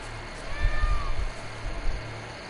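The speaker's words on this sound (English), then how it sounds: "Where's this kitty I'm hearing?" A cat meows a couple of times in the video game The Witcher 3: Blood and Wine, thin and slightly distant, over a low steady background hum.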